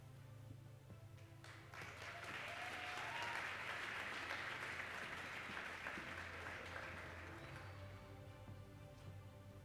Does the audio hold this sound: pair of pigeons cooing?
no